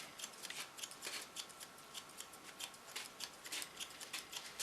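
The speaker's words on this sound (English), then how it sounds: "I'm taking it up with my scissor and do the same line over with my normal scissor" Hair scissors snip through short hair during an asymmetrical pixie cut, a rapid, continuous stream of light metallic snips. The cutting is close but faint, with no talking.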